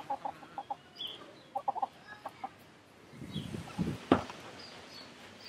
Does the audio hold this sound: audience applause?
no